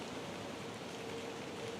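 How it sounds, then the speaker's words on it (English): Steady light rain falling outdoors on a mild 55-degree autumn day during Pennsylvania archery deer season, a soft continuous hiss of drops with no voices. "It's about 55 degrees with some rain falling."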